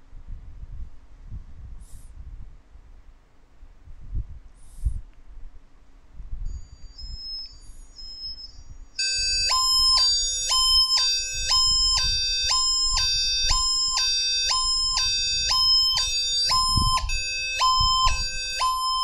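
A phone's anti-theft alarm set off when the phone is touched on a table: a few faint beeps, then a loud, continuous electronic siren that rapidly alternates between two pitches, close and piercing.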